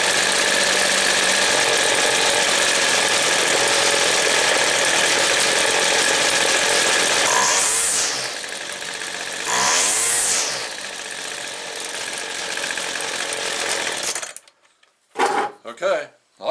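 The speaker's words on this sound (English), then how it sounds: "I still think that the idle speed itself is a little high, so I'm going to turn it down a little bit." A two-stroke engine idles steadily and loudly during carburetor adjustment, with a buzzing, rattly drone and two short revving swells midway, then cuts out near the end, leaving brief knocks and handling noise.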